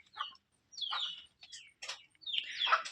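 Birds calling on a small farm keeping Gorra pigeons, a handful of separate chirpy, bright calls in short bursts with brief pauses between them, fairly close and with no one talking.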